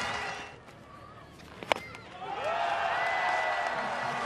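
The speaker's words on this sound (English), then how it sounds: "His teammates down to applaud him." A crowd at a Pakistan versus Ireland cricket match applauds and cheers, rising after a brief sharp knock and continuing as a broad, distant wash of clapping.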